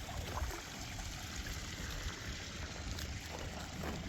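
Nutrient-rich pond water trickling and splashing in a garden setting, a steady close dribble with soft low gurgles and no voices.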